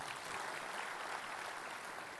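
A church congregation applauds during a sermon, a dense, steady wash of clapping from many hands that fills the whole moment without talk.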